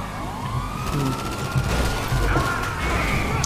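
A police car siren wails in GTA Online, a continuous rising and falling tone heard up close over engine rumble and background game noise, with no talk.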